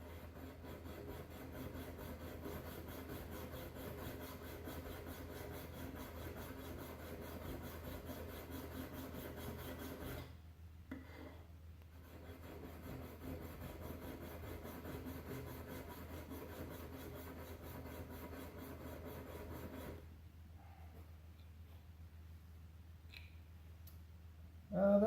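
A blade is sharpened on a fine stone with steady, rhythmic rasping strokes at close range. The strokes stop briefly twice and then resume, with no talk.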